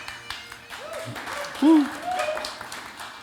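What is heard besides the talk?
audience clapping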